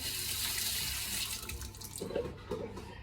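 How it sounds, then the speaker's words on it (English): A kitchen tap runs steadily while someone washes their hands beneath it. The water splashes close by, and a few softer sloshing movements come near the end. "Just wash my hands a minute."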